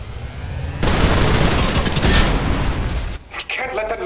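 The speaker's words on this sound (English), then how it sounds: "Okay, fine, I'll just shoot it." Heavy gunfire from a weapon in the shooter game Trepang2 erupts abruptly and roars as a dense, continuous burst of shots, loud and close, easing off near the end into scattered game effects.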